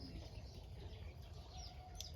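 Soft clucking from chickens amid a steady low rumble of background noise, with a faint bird chirp near the end.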